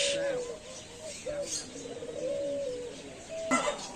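Several pigeons coo in soft, repeated throaty calls close by at Natore Green Valley Park, overlapping each other, with a brief sharp chirp near the end.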